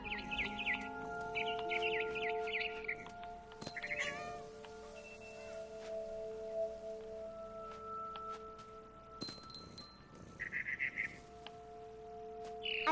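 A barn swallow in the video game What Remains of Edith Finch chirps in short bright bursts near the start, middle and end, mixed with meowing from a cat over a quiet tonal background.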